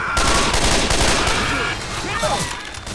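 Rapid gunfire bursts from a Left 4 Dead 2 firefight, loud and dense throughout, with a player talking over the shooting.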